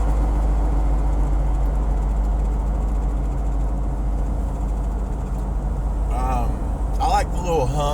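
A steady low rumble and tire hum of a lifted Jeep Wrangler driving on the road continues throughout, with a voice speaking briefly near the end.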